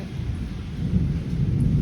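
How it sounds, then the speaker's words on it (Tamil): A heavy rainstorm in Vriddhachalam brings a deep, continuous low rumble of thunder mixed with a steady wash of rain, loud and unbroken throughout. "சரியான மழை"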